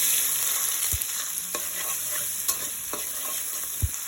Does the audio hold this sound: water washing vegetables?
no